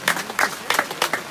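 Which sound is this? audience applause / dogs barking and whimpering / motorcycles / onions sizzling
audience applause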